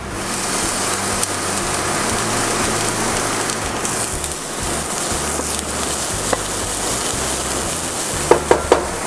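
Garlic and onion sizzle in a hot pan, a steady, close frying hiss with a few clinks of a utensil near the end and no talking.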